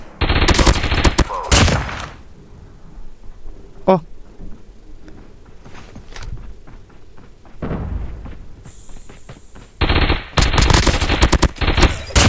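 Bursts of gunfire from bots shooting each other in Call of Duty Mobile battle royale, loud rapid volleys at the start and end with quieter scattered shots between.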